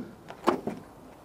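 The rear luggage door of a Toyota Hiace wagon is opened by hand, giving a short mechanical clunk and latch click followed by a softer thud, fairly close and quiet with no speech.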